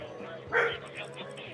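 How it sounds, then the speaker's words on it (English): A dog gives a single short bark, fairly faint and brief, against quiet background sound in a Spider-Man video game playthrough. "I don't know why she barked."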